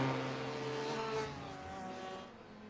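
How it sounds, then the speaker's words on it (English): A race car engine in a sim racing endurance event at Circuit de Catalunya drones with a steady tonal whine, then its pitch shifts and drops as the car passes, moderately distant. "by the sounds of his engine"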